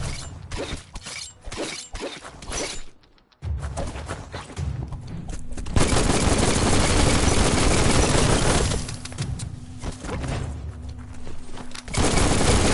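Rapid gunfire bursts from the video game Biomutant, dense crackling volleys and impacts layered over game music and effects, loud and sustained with a brief drop to near silence partway through.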